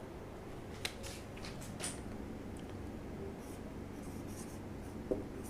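Pen or marker writing on a board during a class, a faint, intermittent scratching of short strokes with a few taps, alone without talk.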